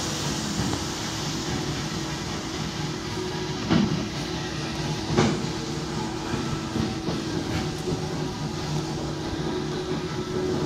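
Train idling at Buisan railway station, a steady broad rumble and hiss with a few faint clanks and knocks, heard fairly close and without speech.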